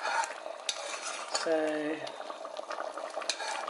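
A pot of pawpaw dessert boils on the stove and is stirred, giving soft bubbling and scraping with light clinks of a utensil against the pot. A voice speaks briefly partway through.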